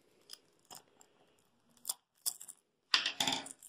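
Scissors snip and cut into the plastic packaging of a FIFA 21 PlayStation 4 game, giving a few sharp, close crisp clicks spaced apart, ending in a louder cluster of cutting and crinkling.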